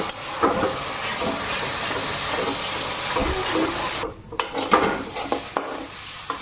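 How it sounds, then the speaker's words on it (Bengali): Spices, including chili powder, sizzle and fry in a pan with a steady hiss, punctuated by the scrape and clatter of stirring. "আমার মশলাটা ভাজা হয়ে গেছে,"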